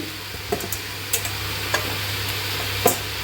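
Hilsa fish curry with taro stolons and eggplant being stir-fried in a pan, a steady soft sizzle under a few sharp spatula knocks and scrapes spaced through the stretch, close and moderately loud with no talking.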